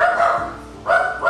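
A dog barks twice nearby, two loud, drawn-out yelps separated by a short pause, with no talking.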